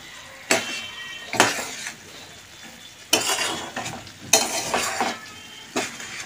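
Eggs stirred into a spice masala for a boneless meat and egg kosha, with a utensil scraping and clinking around a frying pan in several distinct strokes over a light sizzle, close and moderately loud, no talking.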